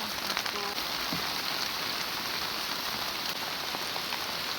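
Steady heavy rain patters on a field hut, a dense, even hiss of drops close by, with no voices.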